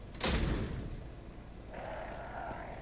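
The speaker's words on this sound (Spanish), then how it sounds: "Abrimos la puerta." A door opening in Resident Evil HD: a sharp thump at the start followed by a scraping, sliding mechanical sound, fairly quiet and alone.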